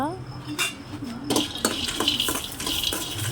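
Peanuts roasting dry in a kadai, with repeated scraping and clinking as they are stirred against the metal, close and moderately loud, alone without talk.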